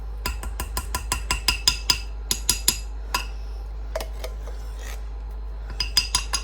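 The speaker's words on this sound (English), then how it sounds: "I'm just going to scrape the rest of it in." A spoon scraping leftover canned pumpkin out of a metal can, rapid repeated rasping scrapes in quick bursts with brief pauses between them, close and clear with no talking.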